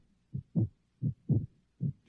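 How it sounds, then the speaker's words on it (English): A heartbeat sound effect, meant as a frightened heart, thumps in steady lub-dub pairs, three double beats in quick, even rhythm, deep and muffled, heard alone with no voice over it. "It's the sound of a heartbeat."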